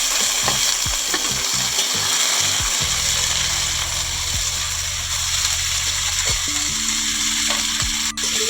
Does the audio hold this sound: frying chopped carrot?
yes